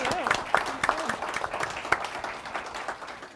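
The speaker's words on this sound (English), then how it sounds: "If you can join me for a quick round of applause" Audience applause following a panel discussion on access to justice, a steady patter of clapping from a room-sized crowd with voices talking over it.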